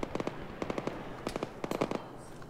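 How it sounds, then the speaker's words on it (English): Rapid bursts of gunfire in a military video game, short cracking volleys in quick clusters over a low background hum, fairly close and sharp. "We're still taking fire from that direction."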